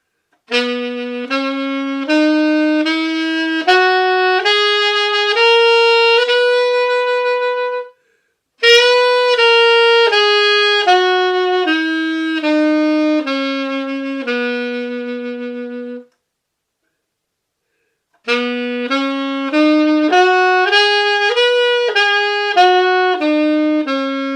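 An alto saxophone plays clear, sustained notes close up in three unaccompanied phrases of stepwise rising and falling pitches, separated by short silences.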